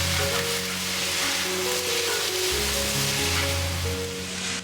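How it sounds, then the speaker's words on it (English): Beef rice noodles stir-fried in a wok with light and dark soy sauce and oyster sauce, a steady close sizzle and hiss running throughout with faint scraping and tossing underneath. "Light and dark soy sauce, oyster sauce, and then stir fry everything together for 1 to 2 minutes."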